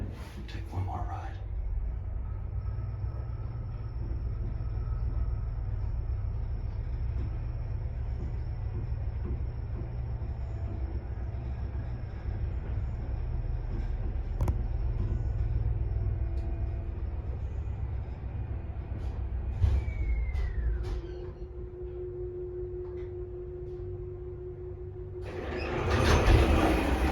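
An original 1955 Otis traction elevator at 6 Broadway in Denver hums and rumbles through a ride, a low steady motor drone with faint whirring tones, a brief clunk near the stop, then a door or car noise as it ends.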